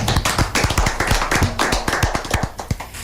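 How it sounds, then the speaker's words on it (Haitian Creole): Audience applause at a gathering, loud, close hand claps in an uneven, fairly sparse rhythm from a small group, continuing for a few seconds with no talk. "On applaudit s'il vous plaît."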